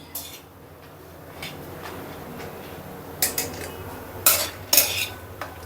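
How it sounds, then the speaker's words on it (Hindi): Something being roasted while stirred in a pan over low heat, with a steady faint background hum broken by several sharp metallic scrapes and clinks of the spoon against the pan toward the end. "ऐसे ही करके गाइस मैं सारी इसको भून लेती हूँ। धीमी धीमी आंच में भूनूंगी।"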